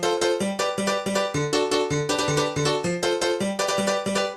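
A 90s-style piano part from a hardcore dance tune plays as loud, fast, evenly spaced chord stabs in a driving repeating rhythm, with no voices.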